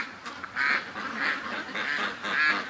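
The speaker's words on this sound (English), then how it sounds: "End of the day, the duckies are coming home for the night." Ducks coming home for the night at the end of the day honk and quack in a repeated series of loud, close, nasal calls, about four bursts evenly spaced with short gaps between.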